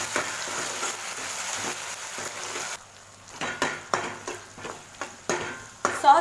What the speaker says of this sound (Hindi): अब इसको हम अच्छी तरीके से मिक्स कर लेंगे